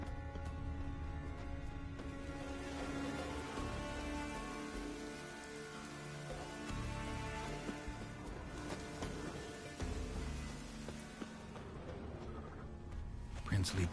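Steady rain patters on surfaces with scattered drops in the video game The Witcher 3: Wild Hunt, heard continuously at moderate volume beneath a layer of other sound.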